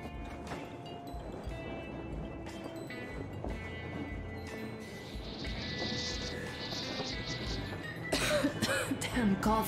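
A character in the video game Metro Exodus coughs repeatedly amid layered game ambience of wind and clatter, with the coughing rising to a louder burst near the end.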